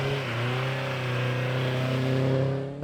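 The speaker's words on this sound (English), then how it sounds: "It was Andrew Beskerby's first time at Doune, Silver Phoenix looking sharp. The kit car is based on a Striker chassis, similar to that of Love at Fraser's." A Silver Phoenix kit car built on a Striker chassis climbs the hillclimb course at Doune, its mid-pitched engine revving steadily and rising in tone, fairly close and loud, with no talk over it.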